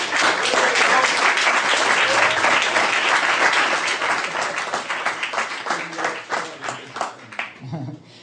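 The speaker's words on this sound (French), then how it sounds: "qu'on peut applaudir bien fort" An audience applauds Jacques Ciron at a 2012 fan convention, dense steady clapping that thins into scattered individual claps toward the end.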